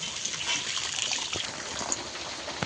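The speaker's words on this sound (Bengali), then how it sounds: "এবারে জল দিয়ে দেবো।" Water is poured into a simmering fish curry, a short close splashing trickle over the bubbling pot.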